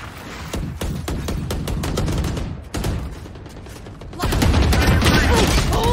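Rapid automatic gunfire from Killjoy's turret in Valorant, a dense run of loud close bursts with brief gaps, joined by heavier overlapping fire near the end.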